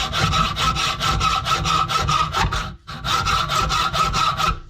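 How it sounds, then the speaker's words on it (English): Cheap bargain-brand hacksaw cutting steel for a John Deere 700J dozer door bumper, steady back-and-forth rasping strokes close up, pausing briefly midway before resuming the same rhythm. "my bargain brand hacksaw here is just not really cutting it"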